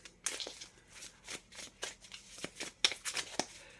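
Tarot cards being handled and laid down, a quick series of soft papery flicks and slides, close and quiet, with one card drawn to cover another.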